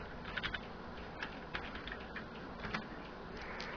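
Soft, quick clicks of typing on a laptop computer keyboard in a dark room, irregular light keystrokes with a few small bursts, quiet and close with no talking.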